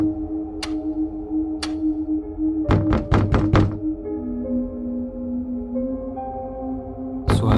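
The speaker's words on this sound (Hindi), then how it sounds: "कोई तो ऐसा है जो लगातार दरवाजा खटखटा रहा है।" Knocking on a door in a Hindi horror story at night: two single knocks, then a rapid burst of five sharp raps, a pause, and one more loud knock near the end, all crisp and close.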